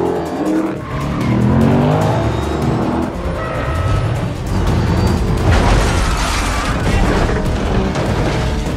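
A movie car chase with a container truck and a pursuing car: engines roar continuously, tires screech and skid in repeated bursts, and heavy booms and crash-like impacts punctuate the loud, dense mix, with no talking.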